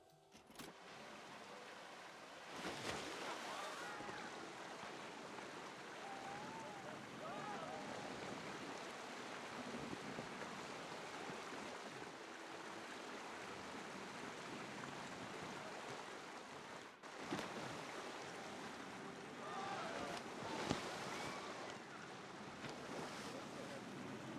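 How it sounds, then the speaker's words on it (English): Water rushes and splashes around a raft on a flume ride in the Planet Coaster 2 theme park game, a steady broad wash of surf-like noise with occasional stronger surges. "We'll ride the raft flume first"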